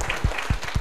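Brief burst of audience clapping at a speakers' event, a few distinct claps in quick succession, fairly close and moderately loud, with no voices over it.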